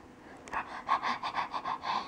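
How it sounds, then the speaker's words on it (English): Quick, rhythmic panting breaths from a small animal, close to the microphone, repeating steadily for a couple of seconds with no talking. "What's with the heavy breathing lately?"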